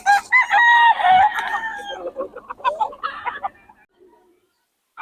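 Roosters and hens at a poultry seller in Bocaue crow and cluck loudly and close by, a long crow overlapping with busy clucking that fades to near silence.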